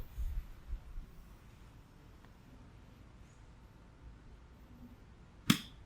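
A single sharp crack of a golf club striking the ball on a chip shot, near and brief, after a few seconds of quiet outdoor ambience.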